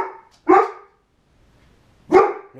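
A German shepherd mix barks twice in a yard, two sharp, fairly close woofs separated by over a second of near silence, with a faint trailing yip at the end.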